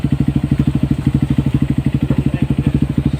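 A Honda CRF150 dirt bike fitted with a Yoshimura exhaust idles steadily, its loud, close engine firing in a rapid, even pulse throughout with no talking.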